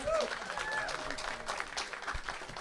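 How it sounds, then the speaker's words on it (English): Audience applause at a talk on a New Hampshire school funding dispute: a steady, moderately distant clapping from a small crowd, continuous throughout with a faint voice under it. "Give him a round of applause"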